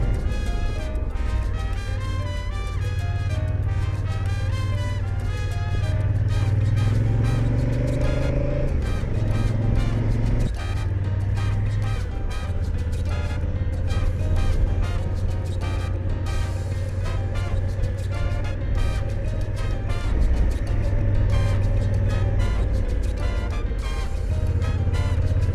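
A motorcycle riding through green, jungle-like Pyrenees countryside near San Sebastian, its engine droning steadily with shifting pitch as it climbs and changes gear, wind rush over the top.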